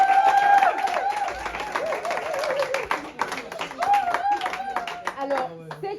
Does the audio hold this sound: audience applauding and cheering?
yes